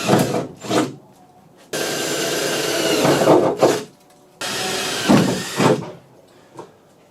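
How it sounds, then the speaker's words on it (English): Bursts of a power drill with a hole saw grinding into a car hood, two long runs with shorter spurts between, close and rasping, with brief pauses. "Drill a hole and then use the hole saw from the top."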